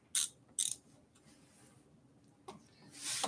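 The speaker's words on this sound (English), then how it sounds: "I'm just going to tighten it there." A tool tightening the display mount on a Velotric Nomad 1 e-bike, giving two short sharp ratcheting clicks near the start, then quiet, then another click and a longer grinding turn at the end, close and fairly faint.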